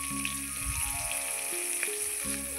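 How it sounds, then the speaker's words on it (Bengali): Sliced onions fry with bay leaves and a whole garlic bulb in oil left from frying duck eggs, giving a steady close sizzle that bubbles and crackles throughout with faint stirring. "পেঁয়াজগুলো হালকা লাল লাল ভেজে নিয়েছি"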